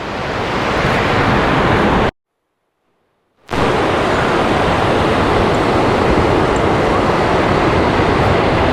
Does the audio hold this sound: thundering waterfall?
yes